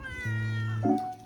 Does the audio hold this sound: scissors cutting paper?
no